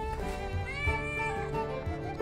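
A cat meows in a drawn-out, wavering tone inside a car repair workshop, moderately loud over a steady low background hum.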